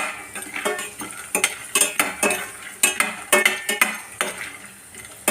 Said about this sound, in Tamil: சுண்டவத்தில் நல்லா வறுத்துக்குவோம்.